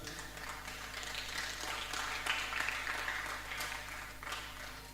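Teen Sunday school class applauding themselves, a faint, steady spread of many hands clapping at a distance over a low room hum.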